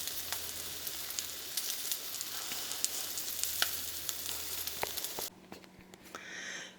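Eggs frying in a very hot skillet, a steady close crackling sizzle with scattered pops, then the sizzle drops away near the end, leaving a softer hiss.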